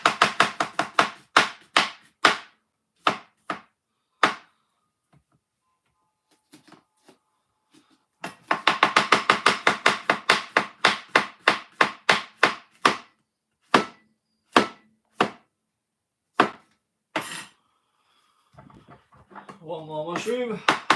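A knife slices mushrooms on a board in fast runs of crisp, close chops, separated by pauses, with a brief stretch of talking near the end.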